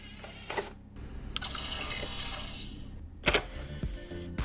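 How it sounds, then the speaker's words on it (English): A game console ejects a Cyberpunk game disc, giving short mechanical clicks and whirring drive noises spread over a few seconds, close and fairly quiet. "I'm just putting this game in case it has a different sound when ejecting discs"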